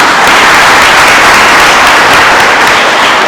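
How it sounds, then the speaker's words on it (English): An audience at a spring grants event gives a sustained round of applause, dense loud clapping that fills the whole stretch without any voices over it. "Let's give him a round of applause."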